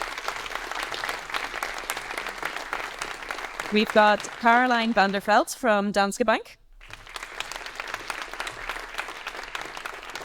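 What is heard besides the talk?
audience applause for panelists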